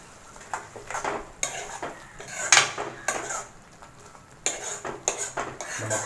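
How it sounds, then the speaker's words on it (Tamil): A spoon stirs and scrapes through okra tamarind curry in a metal pot, giving a series of clinks and knocks with a soft sizzle between them, close and moderately loud, with no speech. "நல்லா மிக்ஸ் பண்ணி விட்டுக்கலாம்."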